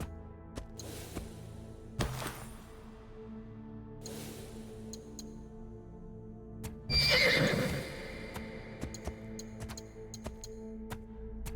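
A horse neighs and whinnies repeatedly in a medieval feudal-lords video game, several bursts with one louder whinny in the middle, over steady hoof clip-clops and light ambient sound, with no talk.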